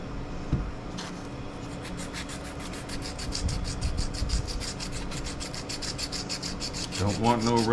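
A small piece of sandpaper rubbed over rusty metal on a thrift-store leaf blower, close steady rhythmic scratching strokes at a brisk even pace throughout, with a brief clunk near the end.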